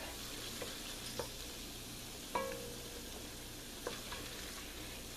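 A roux for Disneyland-style clam chowder cooks in a pot while a wooden spoon stirs it, a soft steady sizzle with a few faint knocks and scrapes of the spoon.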